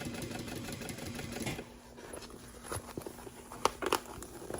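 A sewing machine stitches a convertible tote bag in a steady mechanical whir that pauses briefly mid-way, then resumes with a few sharper clicks near the end.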